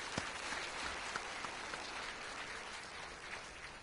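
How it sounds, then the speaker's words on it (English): Warm applause from an audience at a business chamber convention, a fairly quiet, even patter of many hands clapping throughout, sounding somewhat distant and rain-like. "let us give them a warm round of applause to show our appreciation"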